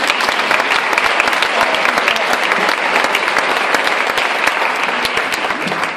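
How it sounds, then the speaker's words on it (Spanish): An audience at a municipal ballet school recital in Gáldar gives loud, dense applause, sharp individual claps standing out from a continuous wash of clapping that stays strong throughout. "Un aplauso para ella."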